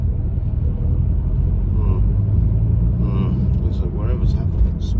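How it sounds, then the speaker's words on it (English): Road traffic through Astley on the East Lancs road: a continuous low engine rumble of nearby vehicles, steady throughout, with voices chatting over it. "Looks like whatever's happening, it's traffic."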